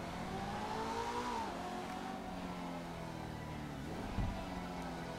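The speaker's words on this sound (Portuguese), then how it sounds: "o escape reduzindo marcha, deixa eu ver" An Emperor ETR1 car in GTA Online revs and drops pitch through two downshifts, the second ending in a short exhaust pop; the engine sound is faint and distant.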